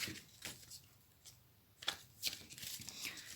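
Tarot cards are shuffled close up, soft papery riffles and flicks in short irregular bursts, quiet and alone.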